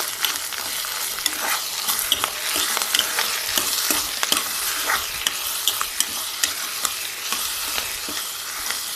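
Cross-cut okra fries in oil while being stirred, a dense nearby sizzle punctuated by frequent quick scraping and clicking strokes of a utensil against the pan, with no voices.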